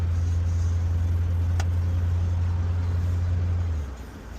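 A 1985 Cadillac Eldorado cruising steadily with a deep, constant engine and road rumble, close and loud, easing off slightly near the end.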